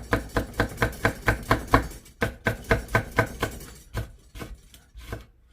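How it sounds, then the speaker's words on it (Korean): Sharpened kitchen knife slicing a chili pepper on a board, a rapid regular series of crisp chopping taps, about a dozen in quick rhythm, then a few slower spaced cuts, close and clear with no talking. "썰리시는 소리 들리나요?"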